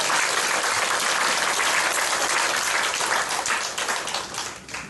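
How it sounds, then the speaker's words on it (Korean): Congregation at a church healing service breaks into loud, sustained applause, a dense steady wash of clapping that tapers slightly toward the end. "할렐루야. 박수."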